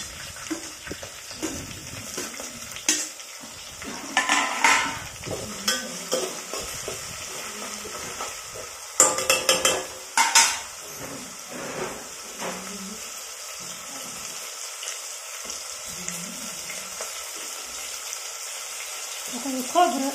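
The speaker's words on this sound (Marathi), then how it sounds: "कढीपत्ता टाकून घेतलेला आता हे टमाटर टाकून घ्यायचं बारीक कापलेलं" Finely chopped tomatoes fry in oil with curry leaves for a soybean curry, giving a moderate sizzle broken by irregular bursts of spoon scraping and stirring against the pan, with no voices.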